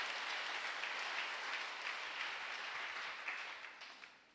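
A church congregation applauds steadily, a dense even wash of clapping that carries on for several seconds and then fades toward the end, with no talk over it.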